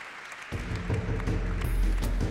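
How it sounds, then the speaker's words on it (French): Audience applause for five property developers at the Pierres d'Or 2017 awards, a dense crowd clapping that starts abruptly and keeps up evenly at moderate loudness. "on les applaudit tous les 5"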